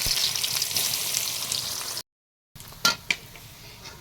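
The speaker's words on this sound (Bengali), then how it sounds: "পেঁয়াজ মরিচ কিন্তু এই যে ভাজা ভাজা হয়ে গেছে" Chopped onions and chilies frying in mustard oil in a pan for a beef tripe dish, with a steady hissing sizzle, then a short silence followed by a few sharp utensil clinks against the pan.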